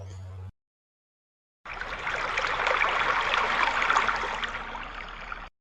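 Water pours steadily at Arikkal falls, a loud continuous rushing and splashing that fills the scene with no voices, after a short silent gap at the start.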